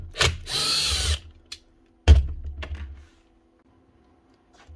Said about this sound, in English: Get out the old style impactor.